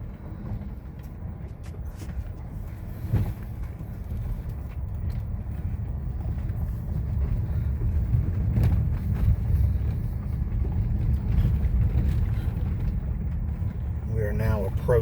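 Car driving along a washed-out, rutted mountain road in the Linville Gorge area of North Carolina, a steady low rumbling engine and road drone with occasional jolts, continuous and fairly loud.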